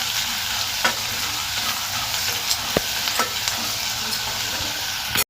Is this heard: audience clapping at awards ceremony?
no